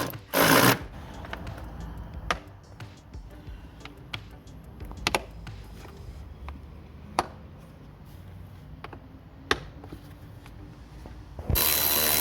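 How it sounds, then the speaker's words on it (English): Close ratchet clicks as bolts are tightened back onto the air filter box of a Kia Sportage, coming in short irregular bursts of sharp clicks with pauses in between and louder clattering at the start and end. "Put all these bolts back on in reverse order."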